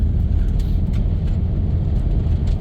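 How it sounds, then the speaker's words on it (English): A 1997 Dodge Grand Caravan SE that sat abandoned on a farm for over four years drives along as its transmission shifts into overdrive, a steady loud low engine and road rumble from inside the cabin. "there it goes into overdrive"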